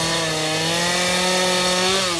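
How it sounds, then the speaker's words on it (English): Steel gas chainsaw cutting into wood at a county fair carving exhibition, a loud sustained high engine whine with a steady buzzing pitch held close throughout, no talk. "Getting covered in wood chips and seeing art made with a good old steel chainsaw."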